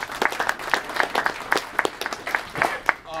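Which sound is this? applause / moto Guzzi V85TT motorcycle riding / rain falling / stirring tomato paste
applause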